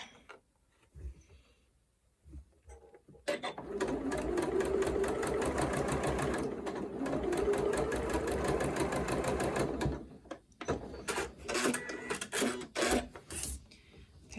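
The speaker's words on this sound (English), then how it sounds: "what you're looking for while sewing this curve is making sure that your two fabrics are lining up" A sewing machine stitches a curved orange peel quilt block with a quarter-inch foot, a fast steady mechanical whir running about seven seconds between quieter handling noises, close up.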